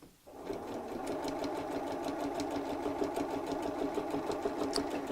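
A sewing machine stitches around the edge of a purse, running in a quick, steady mechanical chatter close by for several seconds after a brief quiet start, with no talking.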